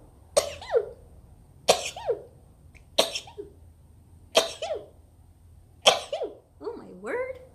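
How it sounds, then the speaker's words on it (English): A run of five or six sharp sneezes in a backyard, close and fairly loud, each a quick burst with a brief pause between, the last one trailing into a voiced exhale. "Oh, I'm gonna sneeze."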